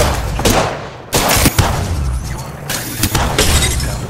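Gunfire from the shooter game Apex Legends: dense rattling volleys and sharp impacts, loud and close, in several waves, with faint voices underneath.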